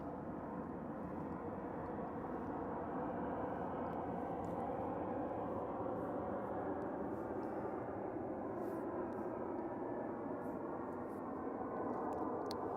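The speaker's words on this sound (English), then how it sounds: "there's another plane coming by." Airplane passing overhead outdoors, a steady broad roar that holds at moderate level throughout, distant and unbroken, with no voices over it.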